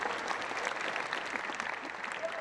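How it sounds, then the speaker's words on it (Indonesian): A crowd gathered for an interfaith speech before a Christian congregation breaks into sustained applause, dense clapping from many hands heard at moderate distance, steady throughout with no voices over it. "Tepuk tangan semuanya."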